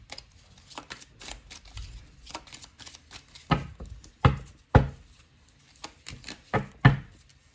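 Oracle cards are shuffled by hand in a series of brisk riffling bursts separated by short pauses, close and crisp with sharp slaps as the deck settles.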